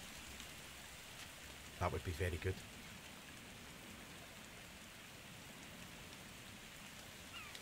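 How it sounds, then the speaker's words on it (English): Steady rain falls in the survival video game The Forest, a constant hiss of drops on surfaces throughout, while someone talks briefly over it. "it's now raining."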